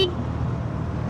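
A steady, low inline-four engine rumble from a Suzuki GSX-S1000 motorcycle runs throughout, fairly loud and continuous, idling or revving gently nearby.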